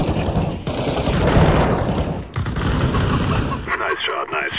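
Rapid automatic gunfire in Counter-Strike: Global Offensive rattles in dense bursts with brief pauses, loud and close, with faint voices mixed in.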